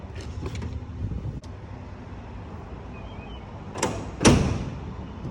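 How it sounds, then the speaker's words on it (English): Tailgate of a 2021 GMC Sierra Denali pickup swung shut outdoors, ending in a single solid thunk with a brief latch click before it, heard alone over steady background noise. "let's close this tailgate up"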